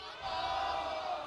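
A large arena crowd at an esports world championship cheers and chants for Team SMG, a steady roar of many voices that swells after a brief pause and holds loud to the end.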